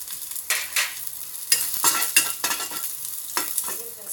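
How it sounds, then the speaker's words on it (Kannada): Crushed garlic fries in hot ghee, with a soft, steady sizzle broken by repeated scraping stirs of a spoon in the pan, close and fairly quiet with no talking. "ಈ ಜಜ್ಜಿಟ್ಕೊಂಡಿದ್ದೀನಲ್ಲ ಒಂದು ಬೆಳ್ಳುಳ್ಳಿನ, ಇದನ್ನು ಹಾಕೋಣ. ಇದೊಂದು ಸ್ವಲ್ಪ ಫ್ರೈ ಮಾಡೋಣ."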